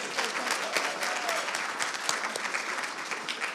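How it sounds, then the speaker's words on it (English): Audience at the Caribbean Global Awards 2024 ceremony gives a round of applause for an honoree, steady dense clapping from a full hall with no voices over it. "let's give her a round of applause"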